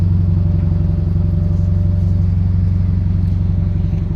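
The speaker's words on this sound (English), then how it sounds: "This exhaust is a really nice deep sound." A car fitted with a Greddy exhaust idles and revs nearby, a loud, deep, steady burbling drone with a throbbing low rumble throughout and no talking.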